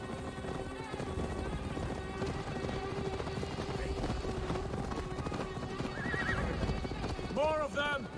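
A horse gallops with rhythmic hoofbeats and whinnies loudly near the end, in the Assassin's Creed game during a battle. Music and combat noise run underneath, and game characters shout.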